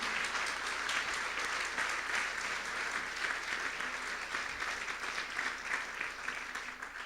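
A church congregation applauds together, a dense, steady wash of clapping that fills the room without pause from start to finish.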